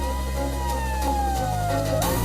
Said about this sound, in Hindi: एकदम करीब होने पर रेड अलार्म बजाया जाता है।